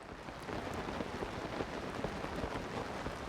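Rain falls steadily in Zelda: Tears of the Kingdom, a soft continuous patter with scattered droplet ticks, moderately quiet and without speech.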